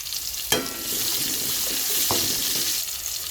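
Onion sizzles in a hot pan for cooking pork nilaga, a continuous moderate frying hiss with a couple of sharp clinks or scrapes near the start and middle.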